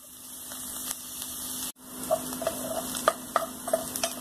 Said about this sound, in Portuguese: Agora vamos deixar dar uma boa fritada aqui nessa cebola com esse alho